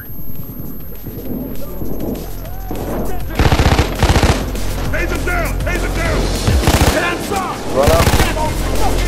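Rapid automatic turret fire rattles in bursts during a Payday 2 heist, Hoxton Breakout on Overkill, loud and dense over game noise, with players talking over the shooting.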